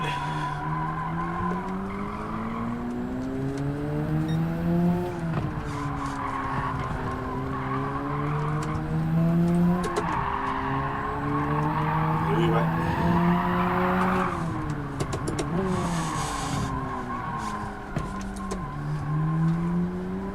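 Race car engine in Gran Turismo 7 revving up and down through gear changes with rising and falling tones, plus tire squeal and skidding, loud and continuous throughout.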